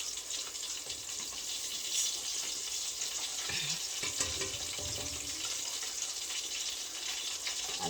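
Fish fries in a pan after about two minutes on each side, giving a continuous moderate sizzle and crackle with a few faint spatula scrapes and no talking.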